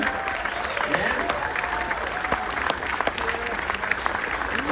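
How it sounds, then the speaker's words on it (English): Audience at a shipboard military tribute on a cruise ship applauding military children, a steady wash of clapping from a large crowd with scattered cheers and voices mixed in throughout. "Standing up, give a round of applause for them."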